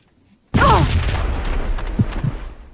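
A proximity mine in the Perfect Dark Zero video game detonates with a sudden loud boom that rumbles and fades over about two seconds, followed by a couple of faint thumps.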